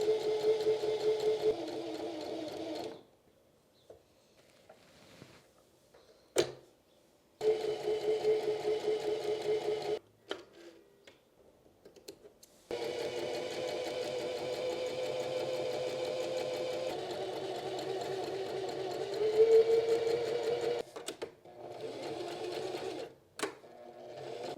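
A home sewing machine stitches practice rows of straight stitches in several bursts of steady mechanical whirring, stopping and restarting with short quiet pauses between runs, close and alone.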